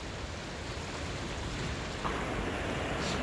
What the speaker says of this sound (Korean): 파도가 치고 있습니다. 높게요.